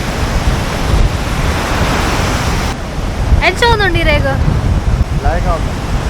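Steady broadband roar of wind and surf at Daman Beach, with a voice speaking briefly over it partway through.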